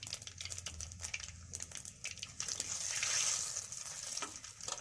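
Dried red chillies, a bay leaf, cinnamon, cardamom and cloves sizzle and crackle in hot oil with mustard seeds for an egg gravy, a steady close frying hiss with scattered pops and a brief stirring scrape.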